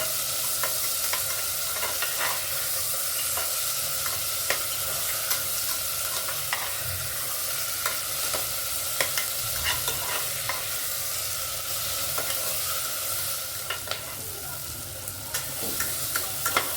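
Tempering for dal khichdi fries in hot oil while being stirred, a continuous bright sizzle with repeated sharp clicks and scrapes of the spoon against the pan, steady and fairly close, with no talk.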